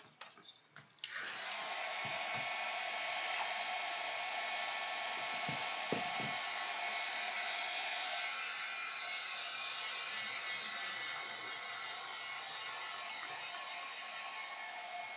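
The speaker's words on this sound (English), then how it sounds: "Heat gun." A heat gun kicks on with a steady whooshing hum, blowing on a painted letter B tag at a lower setting. The airflow stays constant and close with a few small knocks early on and no talking.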